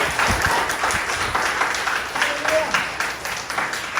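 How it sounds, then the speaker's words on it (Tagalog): A church congregation applauds loudly and continuously during a Filipino worship service, dense clapping filling the room with voices and shouts mixed in. "Kung naniniwala kayo, pinakamalakas na palakpak para sa Panginoon."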